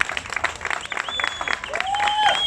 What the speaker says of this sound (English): give them a round of applause for what they have achieved today